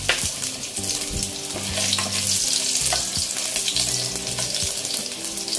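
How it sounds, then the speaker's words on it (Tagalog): Chopped garlic fries in hot cooking oil with a loud, dense, continuous sizzle close by, and a low steady hum underneath. "Nalagay na po natin itong ating bawang"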